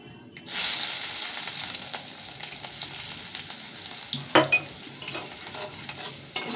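Crushed garlic drops into hot oil with cumin, setting off a sudden loud hiss that settles into a steady sizzle, with a few spatula knocks near the end.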